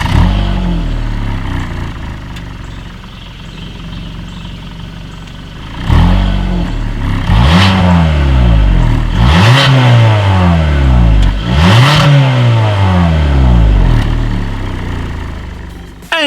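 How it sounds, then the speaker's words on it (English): Exhaust of a 2019 Hyundai Santa Fe with chrome tips, idling and then blipped in several loud, sharp revs that rise and fall, each one swelling and dropping back toward idle, with no talking. "Here is that exhaust clip."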